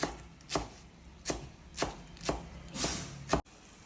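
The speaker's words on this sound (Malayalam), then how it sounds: "അപ്പോഴേക്കും ഞാൻ കുറച്ച് മല്ലിയില കട്ട്" Knife chopping coriander leaves on a cutting board, seven distinct thuds at an even, unhurried rhythm, close and clear with no talking.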